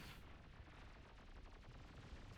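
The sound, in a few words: explosion and towers destroyed in video game Beyond All Reason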